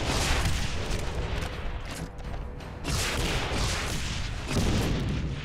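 Booming rocket explosions and gunfire in the shooter game Complex Doom, heavy blasts in several loud bursts, each rumbling and decaying before the next hits, with no talking.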